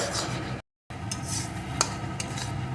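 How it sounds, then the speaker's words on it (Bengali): Bharta being stirred in a pot near the end of cooking: close, steady scraping and soft sizzle with a few light clinks of a utensil against the pot, interrupted by a brief silent gap. "জাস্ট এক দু মিনিট একটু নাড়িয়ে নেব"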